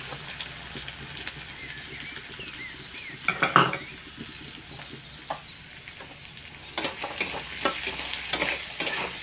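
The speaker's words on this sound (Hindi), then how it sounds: "पियाज को भल से भाजी नवा" Sliced onions sizzle and fry in a pan with cumin, cinnamon and dried red chillies, stirred with a utensil that gives scraping clatters and a sharp clank partway through, the frying hiss steady and close throughout.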